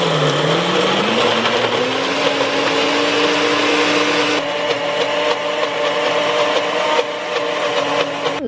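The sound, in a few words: food processor blender chopping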